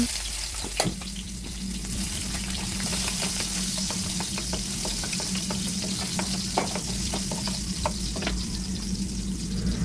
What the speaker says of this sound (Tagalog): Eto, bisa na naman tayo sa pagisa-gisa. Gisa-gisa konti, halo-halo konti.